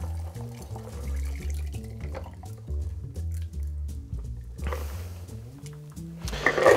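A Singapore Sling cocktail is poured through a Hawthorne strainer over ice, with soft liquid trickling and dripping beneath steady background music.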